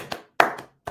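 A few sharp hand claps, close and loud, with brief silent gaps between them.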